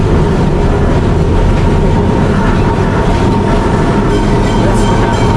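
An old British heritage tram running through Calcutta gives a loud, steady rumble of wheels and car body, with a constant low roar and rattle that carries without a break from start to finish.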